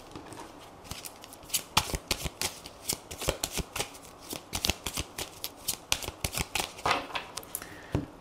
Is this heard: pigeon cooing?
no